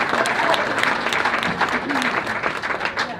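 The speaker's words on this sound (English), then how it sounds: "Great round of applause for our judges." A crowd at a traditional Native American clothing contest at the Santa Fe Indian Market gives the judges a round of applause, steady dense clapping that stays loud for a few seconds without a break.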